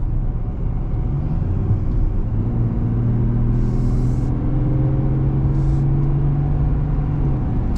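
The deep Duramax diesel engine of a Chevrolet Silverado ZR2 pickup rumbles steadily as it accelerates, its low drone rising gradually in pitch, close and continuous with no talking.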